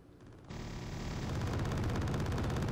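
35mm anti-aircraft guns firing in the video game Wargame Red Dragon, a dense, roaring burst that starts abruptly and builds into sustained rapid fire, loud and continuous.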